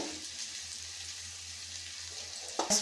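Sliced onions fry with turmeric in a pan, giving a steady close sizzle for the whole stretch, with a brief clatter of stirring near the end and no talking.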